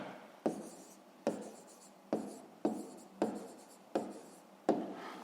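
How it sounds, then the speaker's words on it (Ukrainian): A math answer written by hand with pen on paper, heard as seven evenly spaced scratchy strokes, close and quiet, with no talking. "Ну що ж, записуємо відповідь, пишемо відповідь."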